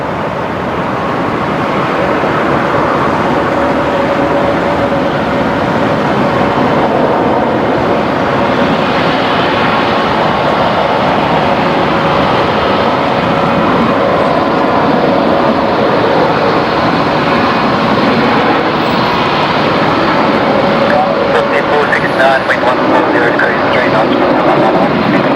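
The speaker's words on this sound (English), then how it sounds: "Next aircraft to depart is going to be the 737 of Qantas off to Christchurch. Looks to be just beginning its roll." A Qantas Boeing 737 begins its takeoff roll at Brisbane Airport, a loud continuous engine roar that holds steady and builds slightly over the whole stretch.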